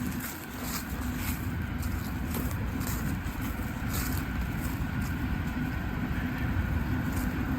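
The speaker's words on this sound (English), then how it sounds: "you maybe can be able to hear the liquid-cooled unit" A liquid-cooled standby generator runs outdoors as a steady, continuous engine drone with a constant low hum, moderately loud and unchanging throughout, with no talking.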